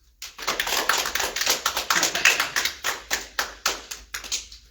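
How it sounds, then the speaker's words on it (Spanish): An audience claps for mothers on Mother's Day, the sharp claps landing in a steady, fairly rhythmic run that holds for several seconds at moderate loudness. "vamos a darle un aplauso a todas las mamás"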